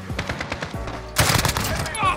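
Rapid bursts of Striker 45 fire in Modern Warfare, a quieter stretch of shots followed by a louder, denser burst, with faint game noise around them.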